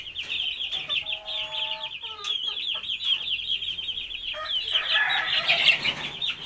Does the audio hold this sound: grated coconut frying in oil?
no